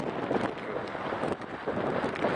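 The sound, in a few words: strong wind blowing on a Vosges mountain summit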